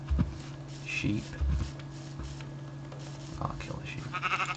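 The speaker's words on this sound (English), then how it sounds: "Sheep." Sheep bleating in the video game Minecraft, several short bleats under a steady game hum while a person talks.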